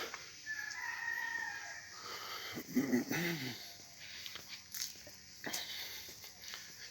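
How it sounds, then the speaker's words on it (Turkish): A rooster crows loudly partway through, with chickens clucking and rustling around it in a noisy outdoor setting. "Yukarıda tavuklarımız, horozlarımız vardı"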